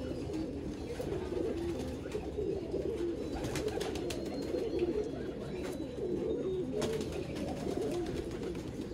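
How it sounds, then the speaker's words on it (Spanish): Corbatín (corbatica) pigeons cooing, soft low rolling coos repeating through the clip over a faint background, with a few sharp clicks and rustles near the birds. "conocí una nueva especie de ave, que son la paloma corbatica"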